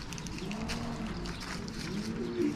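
Racing pigeons coo softly at a loft in Szczecin, low repeated throaty calls over a steady background hum, fairly near and without speech.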